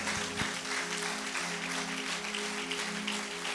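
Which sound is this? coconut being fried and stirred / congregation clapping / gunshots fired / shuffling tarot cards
congregation clapping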